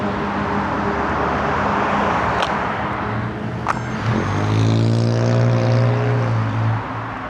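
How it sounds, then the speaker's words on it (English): A small camera drone powering up on a landing mat, its propeller motors spinning up into a steady, close, rising whine with strong harmonic hum that holds for several seconds, with no voices. "We're gonna power on the drone and let it get its satellites."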